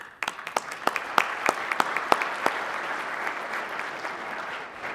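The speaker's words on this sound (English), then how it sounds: "A round of applause, please" Audience applause at a regional Top Cop awards ceremony for a police detective honoree, a burst of individual claps rising into steady clapping from a modest crowd before fading out.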